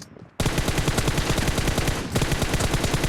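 Rapid automatic gunfire from PUBG Mobile bursts in loud and close after a brief quiet start, a dense rattling stream of shots with a momentary dip before continuing.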